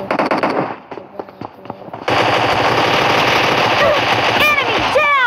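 Video game gunfire rattles in rapid automatic bursts, loud and close, turning into a sustained dense stream of shots with ringing shell-like clinks near the end; a player's voice can be heard briefly over it.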